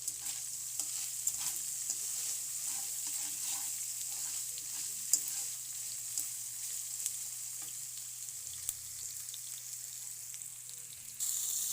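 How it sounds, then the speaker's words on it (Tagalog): Pork sizzling steadily in a pan with bagoong as it is stirred, with a continuous frying hiss, scattered light scraping and clinking from the utensil, and a low steady hum underneath. "niluto muna natin yung karne. Tapos ilagay na natin yung bagoong."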